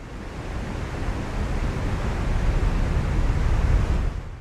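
Ocean waves roll in as a continuous, soft hiss of surf that swells gently louder toward the end, with no voices.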